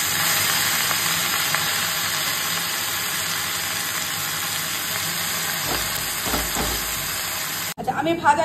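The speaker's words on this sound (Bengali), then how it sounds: "আলুটা ভাজা হচ্ছে হোক।" Potatoes frying in a pan sizzle steadily and closely for about eight seconds, then the sound cuts off abruptly. Faint voices may be present underneath.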